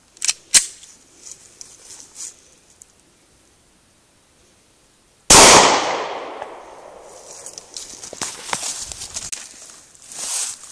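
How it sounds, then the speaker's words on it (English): A Smith & Wesson Sigma .40 caliber pistol fired outdoors: sharp short cracks early on, then one loud report with a long rolling decay and ringing tail, followed by fainter rustle and knocks. "Alright, Smith & Wesson Sigma 40 caliber."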